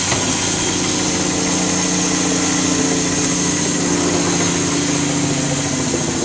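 A 1998 Dodge Dakota Sport's 3.9 V6 idles steadily with the hood open, a constant even hum and faint mechanical whine heard up close with no voices.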